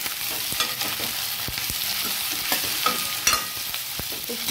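Onion and capsicum stir-fry over a high flame for paneer chilli, giving a steady close sizzle broken by scraping and clattering stirs in the pan, with no voices.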